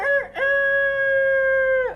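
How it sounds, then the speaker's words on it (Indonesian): A rooster crows once, loud and close: a sharp opening note, a short break, then a long steady sustained call that falls away at the end, with no other sound around it. "Coba Kak Ian akan perhatikan suara ayam."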